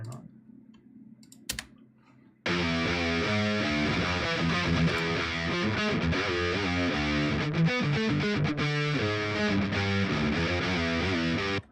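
A few seconds of near silence with faint clicks, then a quiet distorted electric guitar plays steadily, thin and low in level.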